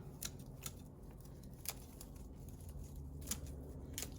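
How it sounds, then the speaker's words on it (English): Garden pruners snip through overgrown asparagus stalks in a vegetable bed, a series of crisp, fairly quiet cuts spaced irregularly over a soft outdoor background, with no voices. "So you get your little pruners here, and you're going to cut back this asparagus."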